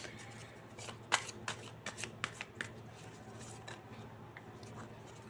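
Tarot cards are shuffled by hand in a quiet room, a run of soft riffling flicks and light slaps, close and fairly faint, with no talking.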